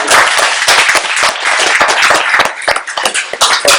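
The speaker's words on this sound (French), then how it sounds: "on peut plus les applaudir quand même." An audience at a French student debate competition claps loudly and steadily from nearby, with dense applause that thins slightly toward the end.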